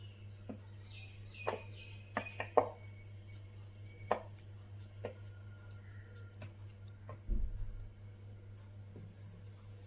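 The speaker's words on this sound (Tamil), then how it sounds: "இப்போ நம்ம வாழைப்பழத்தை உரிச்சிட்டு குட்டி குட்டியாக கட் பண்ணிக்கலாம்." A ripe peeled banana being cut into small pieces on a board, giving a handful of soft knife taps with uneven gaps over a steady low background hum, close and moderately loud, with no voices.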